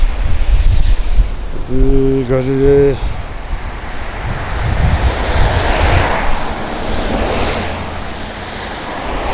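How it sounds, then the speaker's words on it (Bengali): Strong wind gusts during rain in Saudi Arabia roar and buffet the microphone throughout, with a short tonal, horn-like sound early on. "বাতাস"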